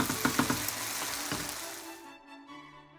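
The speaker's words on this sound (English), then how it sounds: "this helps to steam the rice and vegetables while it is stir frying" Vegetable fried rice stir-frying in a hot pan, with close, busy sizzling and a few quick stirring clatters that fade out after about two seconds.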